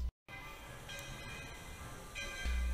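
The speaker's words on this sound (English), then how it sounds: "our train's arriving right now" The Magic Kingdom Railroad train pulls into its station with a low rumbling roll, faint hissing and a short whistle-like tone, heard from nearby after a brief cut, ending in a louder low thump.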